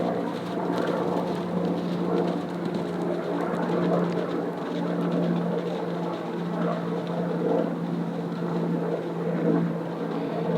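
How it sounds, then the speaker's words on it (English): A helicopter flying overhead at an outdoor spot where horses are being watched gives a continuous low droning hum, steady and moderately loud throughout, with faint outdoor background noise. "Wish the helicopter would go away."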